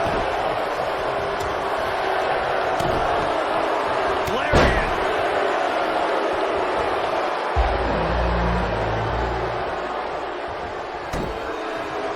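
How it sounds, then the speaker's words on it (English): Wrestling crowd at a pro wrestling event counting along in unison, a big arena roar with sharp slams and thuds of the ring, rhythmic chanting swells and a low rumble building near the end. "listen to this crowd count the next one in"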